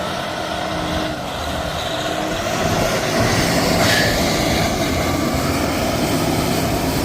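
A farm tractor drives through a field burying corn stalks, a steady loud engine drone and rumble that swells slightly midway, continuous with no talk.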